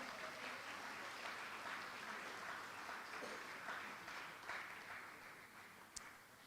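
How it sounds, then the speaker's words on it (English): An audience at an academic conference session applauds a professor with steady, dense clapping that holds evenly for several seconds at moderate distance, with a single sharper clap standing out near the end. "Can I have a big round of applause for our professor?"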